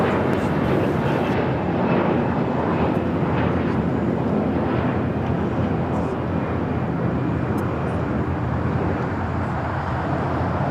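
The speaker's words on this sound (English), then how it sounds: "Our next takeoff is United Airlines Flight 1260 heading to Denver. It's a 22-year-old 757-300." A 22-year-old United Airlines Boeing 757-300 taking off at LAX for Denver, a loud, sustained broadband jet engine roar that holds steady throughout at close range.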